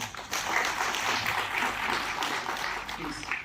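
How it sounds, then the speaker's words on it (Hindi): At a cyber security seminar in Delhi, an audience claps to welcome a guest named Gaurav onto the stage. The applause is soft and distant but continuous, with a roomy, even texture for a few seconds. "गौरव जी के लिए तालियां"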